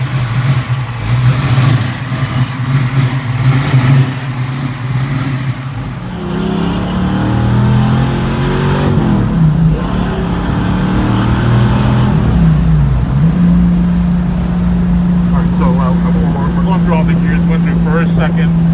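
A 1965 Mustang Fastback GT350 tribute engine pulls up through the gears from inside the car, its loud drone rising in pitch, dropping at each shift and climbing again, with a person talking over it.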